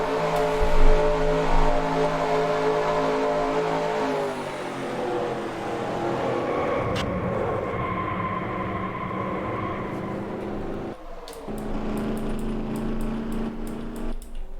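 A Chevy stock car in a Daytona 500 racing video game, heard from the in-car camera: a steady loud engine drone with shifting pitch, rising and falling through gear changes, continuous with no talk.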